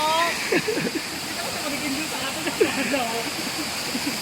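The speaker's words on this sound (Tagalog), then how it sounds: "Pero ngayon, ang ganda ng flow ng tubig." Water pouring at Nakita Falls, a steady broad rushing hiss that fills the whole clip, with voices chattering faintly underneath.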